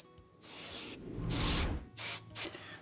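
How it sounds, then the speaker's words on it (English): Primer sprayed from an aerosol can onto a 3D-printed model part: four close, sharp hissing bursts of uneven length, the longest in the middle, with quiet gaps between and no voices. "I'm just going to prime this piece."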